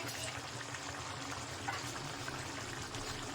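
A pot of Tamil puli kuzhambu (tamarind curry) bubbling and simmering close up, a constant soft gurgle and hiss of boiling liquid without talking.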